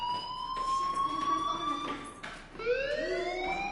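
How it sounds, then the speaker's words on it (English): A school fire alarm in the Life is Strange video game, a steady electronic tone with harmonics that swoops up and down like a siren, loud and continuous with no talk over it. "Hey, do you hear that fire alarm?"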